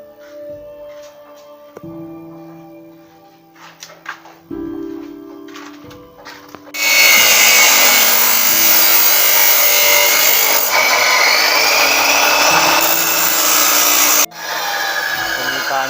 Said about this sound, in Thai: แต่งหัวเหล็กนิดหน่อยครับผมนะหัวเหลี่ยมเหล็กนิดหน่อยนะครับ